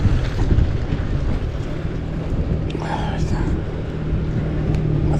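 Steady wind buffets the microphone on a seaside jetty during surfcasting, a continuous low rumbling roar with a faint background voice partway through.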